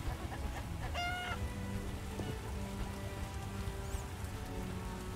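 Steady rain patters densely on surfaces throughout, a constant hiss with a brief high cry cutting through near the start.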